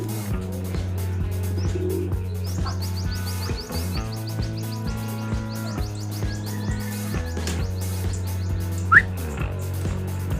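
Homing pigeons coo in low, repeated throaty phrases, close and steady, with faint chirps and whistles overhead and an occasional brief knock in the loft.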